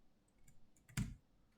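A single sharp computer mouse click lands near the middle, crisp and close, after a moment of faint room hush.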